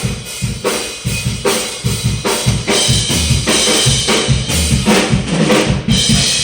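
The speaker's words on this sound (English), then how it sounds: "if you can hear the drum playing in the background" Drums played in the next room of a house, heard muffled through a closed door as a steady rhythmic pattern of thumping kick and snare hits with cymbal wash, moderately loud and continuous.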